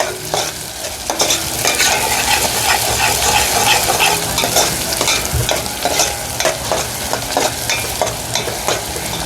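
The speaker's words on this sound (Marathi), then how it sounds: "कांदा बघा आपल्याला लालसर करून घ्यायचा आहे" Chopped onion frying in a pot as the base for a mutton curry, a loud continuous sizzle with busy stirring and scraping of the spoon against the pot, no talking.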